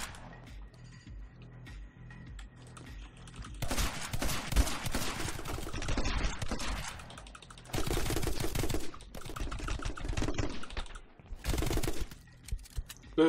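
M249 machine gun fire in the video game My Friend Pedro, heard as dense, rattling bursts of rapid shots in three long volleys with quieter gaps between them, crisp and close.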